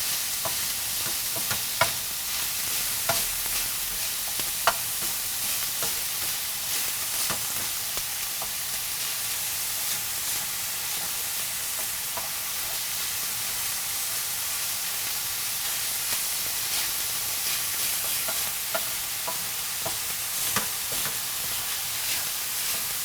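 Minced meat fries in oil in a pan with a steady, close sizzle and hiss, punctuated by scattered ticks and scrapes of stirring throughout.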